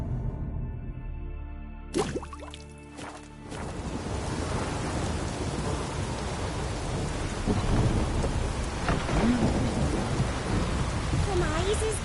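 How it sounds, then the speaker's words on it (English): Steady heavy rain pours throughout in the video game The Witcher 3: Wild Hunt, with low rumbling thunder rolling beneath it; a brief sharp burst near the start before the downpour settles in. "Raining again."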